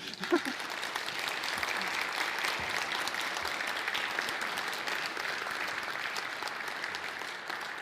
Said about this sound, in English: If you wish to give them one more round of applause,